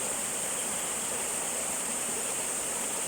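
Steady river water rushes continuously in Limay, Bataan, a dense, even hiss of flowing current close by with no voices.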